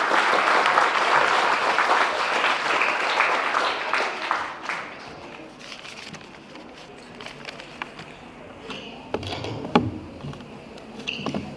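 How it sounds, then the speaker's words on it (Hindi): Students and teachers at a class 10 farewell programme in a CBSE school hall clap loudly for a student speaker, the dense applause fading over several seconds into scattered claps and room noise. "विवान के लिए ताली बजाएं"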